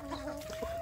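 Free-range village chickens and roosters cluck nearby in a short burst, a clear rising call over a soft background hum with no talk.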